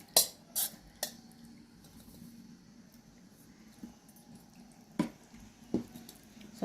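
Chopped bottle gourd pieces are tipped into a bowl of yogurt and mixed for a raw gourd-yogurt relish, heard as a few sharp clinks of a spoon against a steel bowl separated by soft, quiet stirring, with no speech.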